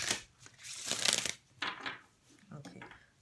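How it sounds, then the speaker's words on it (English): Tarot cards riffle and slap together in a few quick shuffling bursts, close and crisp, with brief pauses between them. "one last shuffle"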